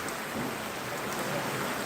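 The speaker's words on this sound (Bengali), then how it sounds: "এখন দমকা হওয়া রয়েছে এবং তার সাথে বৃষ্টি চলছে অবিরাম" Steady heavy rain lashes down in gusty wind during a low-pressure storm in Phulpur, a dense, even hiss that holds at full strength with no pauses and no voices.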